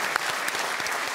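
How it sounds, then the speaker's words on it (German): Studio audience applause on a German talk show, a dense burst of clapping heard on its own. "Könnt ihr mit Applaus mal anfeuern,"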